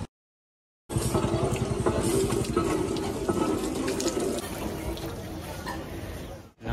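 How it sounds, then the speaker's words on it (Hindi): Running water from a tap splashes steadily over feet being washed outside Rankini temple in Jadugora, a continuous broadband gush after a moment of silence, with outdoor background noise and traffic. "नल पे पैर धो रहे हैं"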